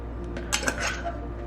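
Spoon stirring chili powder and cumin into food in an Instant Pot, a few short scraping clinks against the metal pot, close and moderately quiet.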